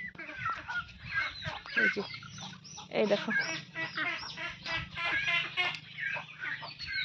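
Ducks and chickens climb up from a village pond on a morning after heavy overnight rain, giving repeated quacks and clucks throughout, close by and mixed with someone talking.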